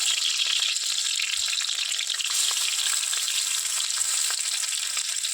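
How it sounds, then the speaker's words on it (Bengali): Eggs frying in a pan give a steady, dense sizzle with a bright hissing crackle, close and even throughout, with no voices. "ডিমগুলো ভাজা হচ্ছে"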